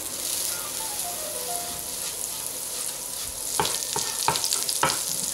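Butter melting and sizzling in a hot pan while cooking chicken biryani, a steady broadband crackle with a few louder spitting bursts near the end, close up and with no voices.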